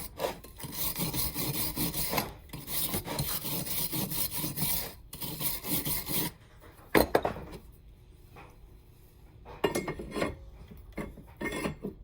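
A brush or pad scrubs an aluminum jet boat intake in close, rhythmic rasping strokes for about six seconds, followed by quieter, scattered scrapes and knocks.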